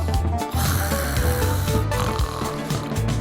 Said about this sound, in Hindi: यहाँ खर्राटे मारकर बड़े मजे से सो रही है